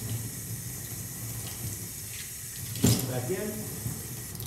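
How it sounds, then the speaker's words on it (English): Drone frame parts from a Rapture-5HD build are rinsed under a running faucet, giving a steady close hiss of water into a sink with a brief louder splash partway through, while someone speaks briefly. "So we're gonna rinse those, rinse these, rinse all of this."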